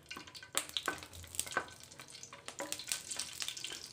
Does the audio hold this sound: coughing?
no